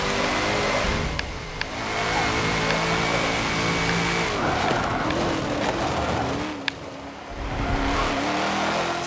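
Racing car in Forza Motorsport 7 working through corners, its engine note steady and loud with revs rising and dropping as it brakes and accelerates, with a faint tire squeal, a sharp click and a brief dip in level.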